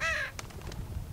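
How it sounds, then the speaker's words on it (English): A crow caws once in The Walking Dead Telltale game, a loud, harsh call at the start that fades into low ambient game noise. "Crow."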